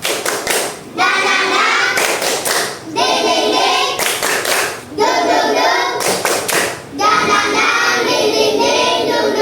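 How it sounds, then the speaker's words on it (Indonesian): Schoolchildren in a classroom perform a rhythmic spirit clap, bursts of loud, tightly synchronized hand claps in patterned groups separated by brief pauses, close and energetic, with a few young voices mixed in. "kita tepuk semangat dulu. Tepuk semangat."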